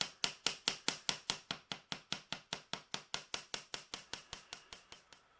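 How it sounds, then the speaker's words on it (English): A hammer taps a wire-wrapped heart pendant resting on an anvil, about two dozen light, evenly spaced metallic strikes in a steady rhythm that grow gradually fainter, close by and alone. "if we tap lightly and over, it's going to even flatten the wire a little bit"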